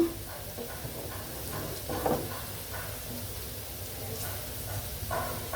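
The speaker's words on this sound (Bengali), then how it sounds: "বেগুনটা আমি ভেজে নিচ্ছি" Eggplant frying in a pan, a steady faint sizzle and hiss with soft irregular crackles and occasional clinks of a utensil, close by and continuous.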